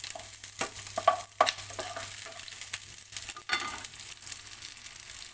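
Diced vegetables for a vegetable manchurian frying in a pan, a constant close sizzle punctuated by quick scraping stirs and clatters at an irregular pace.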